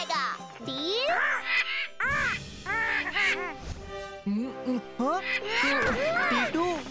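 A cartoon character mimics crows with a string of squawky, bouncing caws in quick bursts, loud and close, mixed with cartoon music and other chattering voices.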